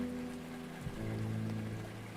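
Rain falls softly and steadily in a cozy café scene from the video game Rainswept, a quiet, even patter with a low hum underneath and no talking.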